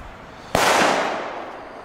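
A single firecracker bangs sharply in a forest, one loud crack followed by a long echoing decay through the trees, with no voices.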